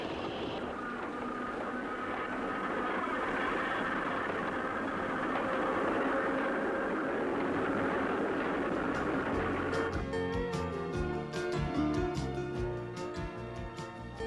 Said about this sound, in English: A southbound train exits Alto Tunnel